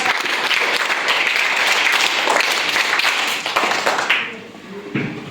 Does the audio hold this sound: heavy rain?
no